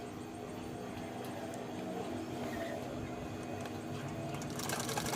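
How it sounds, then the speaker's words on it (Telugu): A sewing machine runs steadily while restitching a frock made from a saree, a continuous close mechanical whir with a rapid rhythmic stitching pulse that grows slightly louder toward the end. "నాకు అక్కడ కొంచెం కుట్టు పడలేదని నేను మళ్ళీ అక్కడ స్టిచ్ చేస్తున్నాను"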